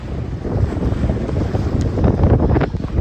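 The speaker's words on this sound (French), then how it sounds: "on appuie au moteur parce que sinon avec les vagues on avance presque pas" A sailboat under engine power off Greece's Peloponnese near Zakynthos, pushing into waves in a light breeze: a loud, continuous rush of water and wind buffeting the microphone, with a low motor rumble underneath and no talking.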